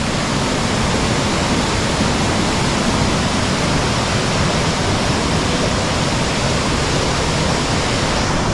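Strong, heavy water flow at Nanemachi waterfall roars as a steady, loud, dense rush throughout, close and continuous with no talk over it.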